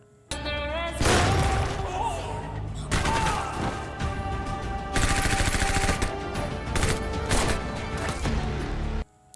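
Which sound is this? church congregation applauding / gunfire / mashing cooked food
gunfire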